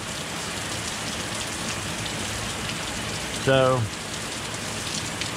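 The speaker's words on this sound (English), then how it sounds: "it rained yesterday, and it's raining today." Steady rain falls outdoors in a constant, even hiss, and someone briefly speaks a single word partway through.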